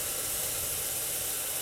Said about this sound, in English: We have a fresh vegetable stock that we're now going to be adding to the quinoa.